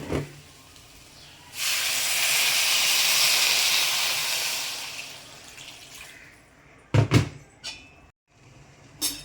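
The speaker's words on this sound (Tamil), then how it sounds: "இப்போ நம்ம தேவையான அளவுக்கு தண்ணி ஊற்றிக்கலாம்." Water is poured into a hot pan of masala for a dried-fish curry, bursting into a loud, steady hiss of steam that fades, followed by a few clanks of utensils.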